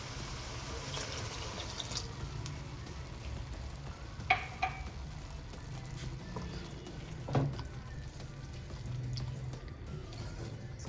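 Keema with peas frying in a pan after a cup of water is added, a low, steady sizzle with faint stirring clicks and a couple of sharper scrapes, quiet and without speech.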